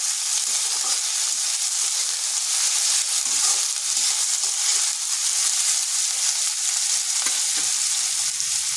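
Long strips of a large sliced onion frying in a pan with whole cumin, giving a steady, close sizzle and crackle with faint stirring scrapes throughout.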